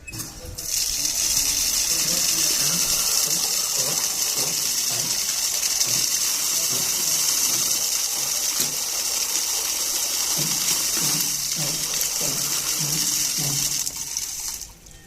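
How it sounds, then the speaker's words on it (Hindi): Water gushes steadily through a non-return check valve in a plumbing setup, a loud, continuous broadband rush lasting the whole stretch, with faint rhythmic knocking underneath. "पानी के बहाव को हम मैकेनिकल डिवाइस द्वारा कंट्रोल कर रहे हैं।"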